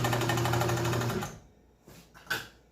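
A Kenmore 120.49 sewing machine stitches in a fast, even mechanical whir for about a second, then stops, leaving quiet with a couple of faint clicks and a small knock.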